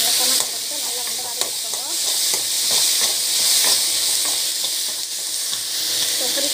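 Chopped tomatoes fry in a hot pan while being stirred: a constant bright sizzle with repeated scraping stir strokes, close and loud, with no talking over it.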